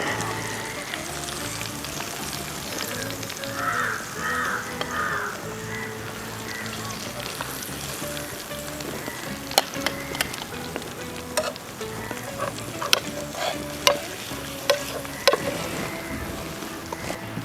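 Mackerel (ayila) fries in a pan with curry leaves, giving a steady close sizzle throughout. Sharp clinks and taps of a utensil join in over the second half, and no one speaks.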